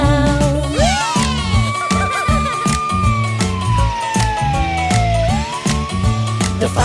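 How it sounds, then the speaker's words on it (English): A fire truck siren sweeps slowly up and down over the bouncy backing music of a children's song, loud and continuous. "The fire truck siren goes wee-oh, wee-oh, wee-oh."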